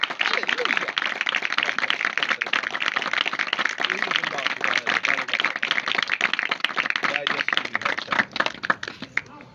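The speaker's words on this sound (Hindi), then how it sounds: "एक बार जोरदार तालियां।" Clapping from a crowd at a wedding procession celebration rings out steadily and fairly close, with a dense patter of hands and voices talking underneath.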